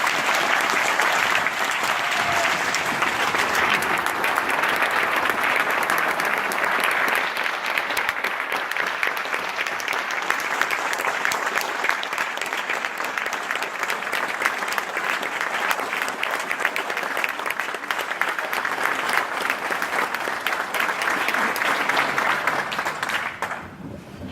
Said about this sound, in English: So if we could give him a huge round of applause.